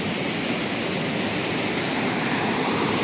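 Floodwater roars through a breach in a broken earthen embankment, a steady, dense, unbroken rush with no other sounds rising above it.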